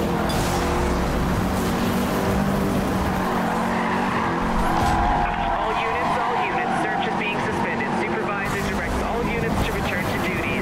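Tires screech and skid as a car slides through a turn in the racing game Need for Speed Rivals, over a steady roar of engine and road noise, with a voice talking over it.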